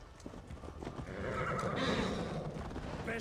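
In the video game Assassin's Creed Valhalla, a horse gives a loud, drawn-out neigh over rhythmic clip-clopping hooves, the whinny rising and fading across a few seconds with no talk.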